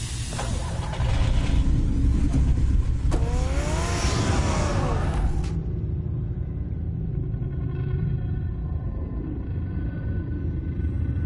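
In Batman: The Telltale Series, the Batmobile's engine rumbles deep and loud, revs with a rising whine and tire noise as it drives off, then fades to a lower, steady rumble.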